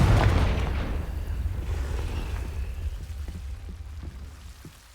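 A Confringo spell blast in Hogwarts Legacy opens with a loud, deep boom that fades over several seconds into a low rumble with scattered faint crackles and ticks.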